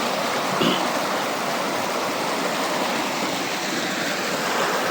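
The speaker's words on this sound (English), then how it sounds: "This is the river." A river on Mount Kenya rushes steadily in a loud, continuous broadband wash of flowing water, close by and unbroken throughout, with no voices over it.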